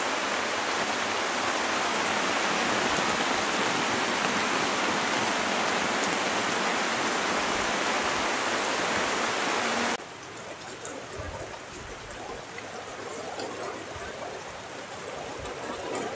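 Heavy rain pours at Kodi Beach, where river meets sea, as a dense, continuous close hiss of falling water. The level drops abruptly partway through, then the softer downpour carries on.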